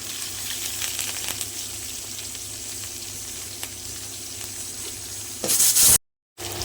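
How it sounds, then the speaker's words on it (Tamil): Onions and curry leaves sizzle steadily as they are sautéed in a pan for goat intestine curry, a loud, close frying hiss that swells briefly near the end before cutting off. "நல்லா வதங்கிடுச்சு இப்போ வெங்காயம் வெங்காயம் கருவேப்பில் போட்டுக்கலாம்"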